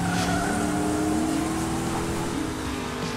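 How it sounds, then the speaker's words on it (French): Hot Wheels toy race cars roar with revving engines and rising, sliding tire squeals, a loud, continuous burst of racing sound with no talk. "Pilote, faites chauffer vos moteurs."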